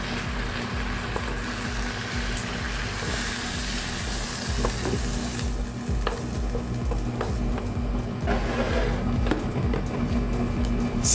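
Sautéed mixed vegetables sizzle and crackle in a multicooker while a utensil scrapes and stirs them out onto a plate, a steady close frying hiss with scattered clinks and scrapes that grow busier toward the end.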